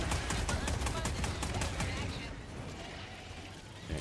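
Dense, rumbling weapon fire from the Delta GL grenade launcher in Helldivers pounds steadily in a thick wash of explosions and game noise, easing off toward the end.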